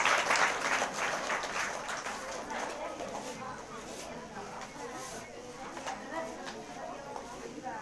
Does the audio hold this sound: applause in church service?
yes